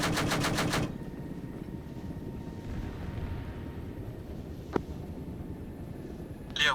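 A gunship's cannon fires a fast, loud burst of rounds at the start, then a quieter aircraft hum continues with a single sharp report later.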